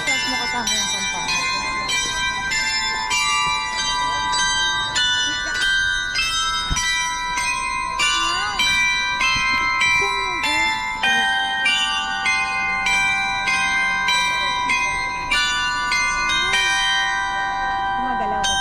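A church bell rings in a long, steady series of resonant strokes with overlapping metallic tones, loud and sustained. Faint voices come through beneath the ringing.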